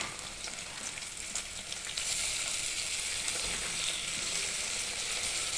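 Chopped tomatoes frying in a pan while cooking pesara pappu, a steady broadband sizzle that grows louder after the tomatoes go in, with occasional stirring clicks and no talking.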